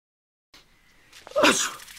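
A single person sneezes after a short silence, with a breathy intake building into a sharp, loud burst up close, alone.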